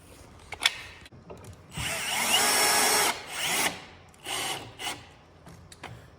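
Power drill in a woodworking shop driving screws into cross-grain wood for a mitered corner joint, heard as three separate bursts of whirring, the middle run longest, with quiet pauses between.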